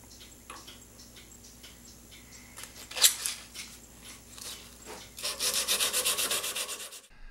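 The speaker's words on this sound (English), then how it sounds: "sanding these brass tubes should, in theory, make them a little bit smaller" Brass tubes for a cushion grip pen are sanded in a workshop, soft intermittent rubbing strokes at first, then a louder, sustained burst of rapid abrasive scraping near the end.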